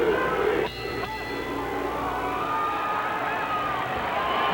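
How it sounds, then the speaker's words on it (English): Boxing arena crowd cheering for Diosbelys Hurtado during his fight with Pernell Whitaker, a steady roar of many voices throughout, with a brief dip near the start. "If you hear a lot of fans cheering for Hurtado"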